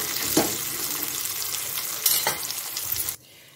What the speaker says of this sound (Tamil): நல்லா ஒரு வதக்க வதக்கிக்கணும்.